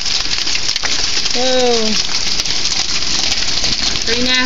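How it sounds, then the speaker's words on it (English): Hail beats down hard outside an open house door in Lawndale, North Carolina, a dense, loud, continuous hiss and patter that fills the whole clip, while a man briefly exclaims over it. "And the hail's just beating down."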